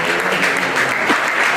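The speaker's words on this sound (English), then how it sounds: "Just give them a round of applause." Room of attendees at a real estate investors meeting giving a round of applause, dense continuous clapping, loud and close, brief.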